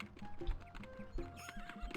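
Horse sounds in the video game Daggerfall, with repeated clip-clop hoofbeats in a steady rhythm and a whinny layered over them, fairly quiet and without talk.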